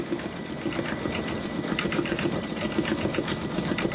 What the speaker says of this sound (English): So that's stitching away now. Penguin stitching away there.